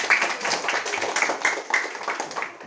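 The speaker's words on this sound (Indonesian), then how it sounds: "Ya, tepuk tangan dulu." Schoolchildren in a classroom clap their hands together at the teacher's prompt, a short, brisk burst of many hands clapping close by that tapers off after a couple of seconds.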